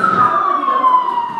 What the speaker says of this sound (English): There have been so many sirens today, it's unreal.